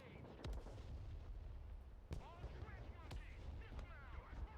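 A Bushmaster cannon fires in the Broken Arrow war game, with several sharp, faint booming shots spaced apart over a low rumbling battle background.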